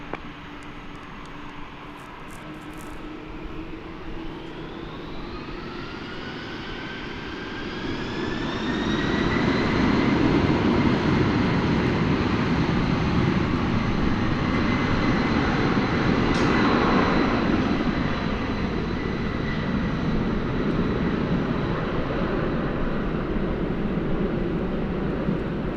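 A UPS jet takes off from runway 18 left at DFW, its engine roar rising steadily from a whine to a loud, sustained rumble that holds close and strong throughout.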